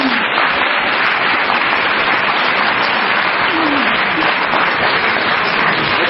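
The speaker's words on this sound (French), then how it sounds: "Est-ce qu'on peut acclamer Jésus?" A large church congregation applauds and cheers for Jesus, a loud, steady roar of clapping and voices sustained throughout without pause.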